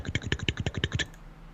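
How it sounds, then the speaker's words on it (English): About ten quick, evenly spaced keystrokes on a computer keyboard, close up and fairly loud, stopping abruptly after a second. "is me typing"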